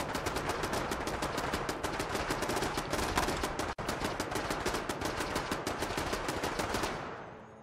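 Sustained automatic machine-gun fire in Fallout 4, a rapid, evenly spaced stream of shots at moderate distance that breaks off for an instant mid-burst, resumes, then ends abruptly.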